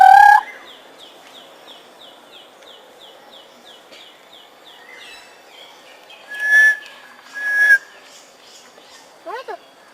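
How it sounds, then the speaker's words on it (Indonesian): A hill myna calls in the Bogor Botanical Gardens, giving a rapid run of repeated chirping notes followed by a few loud, separate whistles and squawks, fairly close in open outdoor air. "Burung beok kok kayak gitu?"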